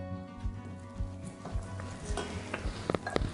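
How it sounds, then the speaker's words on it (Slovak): Butter gently foams and sizzles in a pan: a faint, soft crackling hiss under scattered light clicks of a utensil against the pan. "Pripravíme si najprv hlivovú omačku, kde si zľahka speníme maslo."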